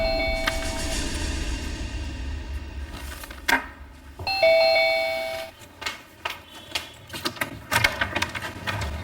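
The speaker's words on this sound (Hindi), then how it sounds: "तभी डोरबेल बजी।" A doorbell rings twice in a home with a few seconds between the rings, each a clear, sustained chime over faint room noise, followed by light clatter and movement.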